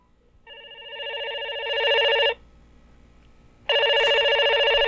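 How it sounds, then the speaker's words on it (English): A telephone rings within a recorded phone message played on speaker into a microphone: two clear electronic ring bursts separated by a short quiet gap, with no voices. "I'm going to play the message that is on Maury's phone, and I'm going to put it to the mic so everyone can hear it"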